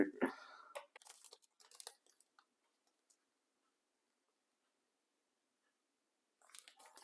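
Kitchen scissors snip while making a sandwich, a few short crisp cutting sounds close by, then a long near-silent pause before more faint snipping; a voice is briefly heard at the start.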